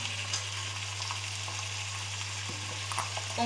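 Duck legs and carrots cook in a pan with a soft, even sizzle and a few light stirring scrapes, close but fairly quiet, with no talk.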